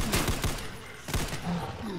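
Gunfire in Brutal Doom, a quick run of loud close shots in two clusters, with echoing blasts and a clattering tail between them.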